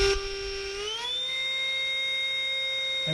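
A FURBUSTER pet hair removal tool runs with a steady, loud tonal motor whine that climbs in pitch as it spins up to its high setting, then holds a constant hum with no talking.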